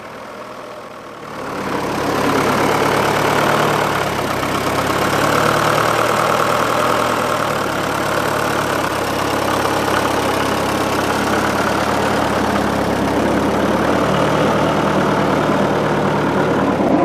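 A tractor engine pulling a trailed plough at a ploughing match training day, with a steady, loud mid-low drone that rises in the first seconds and then holds evenly throughout, with no talk.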